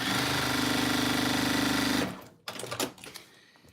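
Sewing machine piecing a quilt runs in a loud, steady, rapid close whir for two seconds, then stops, followed by fabric rustling and handling clunks.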